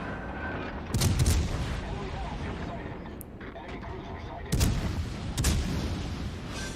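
Naval main battery gunfire in World of Warships, two heavy booming salvos roughly three seconds apart with rumbling tails and fainter shots between, while a player talks.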